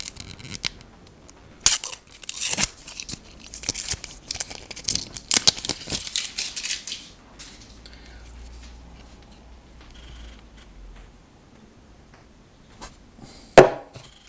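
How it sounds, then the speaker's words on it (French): Tablet box packaging being unpacked during a Xiaomi Pad 6 unboxing, with bursts of close crinkling, tearing and rustling of cardboard and plastic, then quieter handling, a low rumble and a sharp crackle near the end. "On va déballer aussi."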